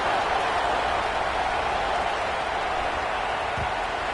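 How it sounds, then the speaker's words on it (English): A football stadium crowd roars after a score in an Oklahoma game, a steady, dense wall of cheering that stays loud and unbroken throughout, without clear individual voices. "this crowd is buzzing after that last score"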